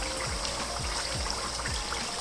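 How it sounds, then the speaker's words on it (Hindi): Water poured into a pot of mutton korma, a steady trickling stream with a rhythmic glugging pulse, close and continuous. "अब यहाँ पे मैं इसके अंदर डाल दूँगी तकरीबन 4 गिलास के जितना पानी"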